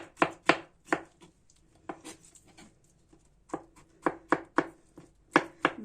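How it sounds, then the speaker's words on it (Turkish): Quick bursts of a knife chopping eggplant thinly on a board, a rapid run of cuts, a pause with light scraping, then another steady series of chops, close and crisp. "Öncelikle patlıcanlarımızı şöyle biraz ince ince doğrayalım."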